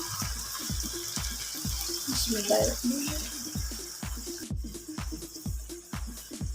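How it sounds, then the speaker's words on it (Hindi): Water poured into a pot of rice for potato dum biryani, a steady splashing stream through the clip with faint background knocks and ticks. "अब इसमें पानी ऐड करूँगी।"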